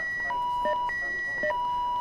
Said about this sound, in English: let me turn off the alarm please first